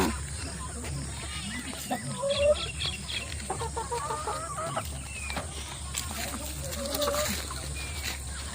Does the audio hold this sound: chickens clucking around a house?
yes